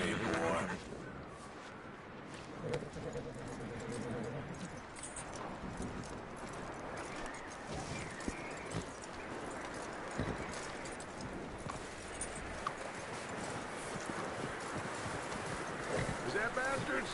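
Horse hooves clip-clop in the Western video game Red Dead Redemption 2, a loose walking rhythm under outdoor ambience and wind with voices talking over it.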